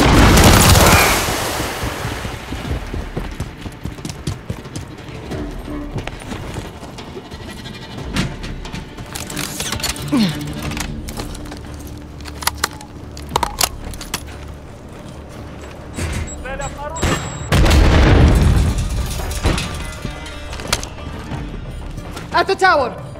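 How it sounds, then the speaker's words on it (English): Enemy gunfire and explosions crackle through a Call of Duty: Modern Warfare 3 battle at a locked-down tower, with loud blasts at the start and again near the end, scattered shots between, and voices talking over the fighting. "There's enemy fire!"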